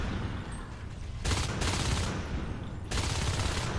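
Shotgun fire in the video game Natural Selection 2 during a competitive match on the Mineral map, with dense bursts of rapid gunfire across the middle and end over a steady game background, no talk.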